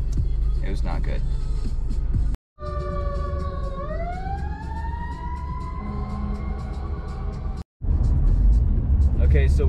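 A car cruises on the freeway at about 65 mph with a kayak strapped on top, giving a steady loud road and wind roar. A rising tonal whine sweeps through the middle, and the sound cuts out briefly twice.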